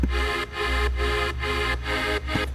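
Sustained synth chords played in a repeating pattern, each held chord broken by short gaps, full and bright with a low bass underneath.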